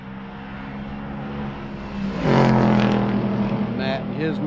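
A race car crosses the finish at Summit Point circuit, its engine swelling loudly past midway as it goes by and then fading off, with a voice talking over it.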